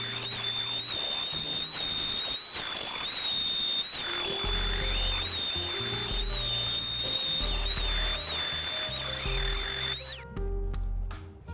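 A power sander working over the finish on a semi-hollow guitar body, a steady high whine with a constant buzz underneath, running continuously and close before cutting off near the end.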